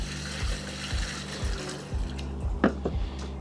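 Measured water, about half the amount, is poured into a container for mixing a lawn treatment, giving a soft steady liquid rush with a few splashy glugs near the end.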